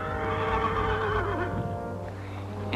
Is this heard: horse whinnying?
yes